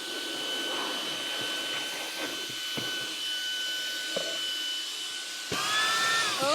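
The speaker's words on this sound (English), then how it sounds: "Hold on, I need a vacuum." Vacuum cleaner running steadily during a furniture hack on an IKEA MOPPE mini storage chest, a constant whining hum with occasional clicks and knocks, the pitch rising and shifting near the end.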